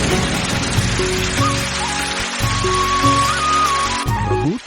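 Steady rain hisses throughout as a dense wash of noise in an animated Hindi story, with sustained tonal music playing over it.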